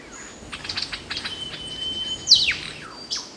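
Lyrebird song in the rainforest, a run of clear rapid chirps and whistled notes with one brighter sweeping call, moderately near over a faint insect hum.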